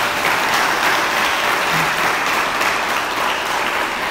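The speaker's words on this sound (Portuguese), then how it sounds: "Dê uma salva de palmas para Jesus." A church congregation applauds steadily and loudly throughout, a dense wash of many hands clapping together with no break or speech.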